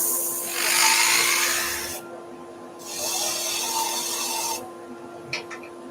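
Sanding a wooden ammonite bowl with 180-grit paper: two long, close, steady raspy hissing strokes separated by a short pause, ending with a couple of faint knocks.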